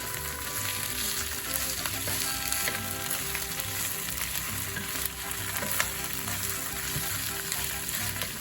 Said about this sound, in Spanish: Ahora vamos a agregar los ajos y vamos a mover un poquito.